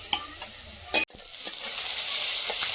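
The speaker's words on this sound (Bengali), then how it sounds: "তেলের মধ্যে পেঁয়াজ দিয়ে দিয়েছি" Onions frying in hot oil in a pan, a loud steady sizzle that swells after a sharp clatter, with a few spoon knocks and stirs, close up and no talk.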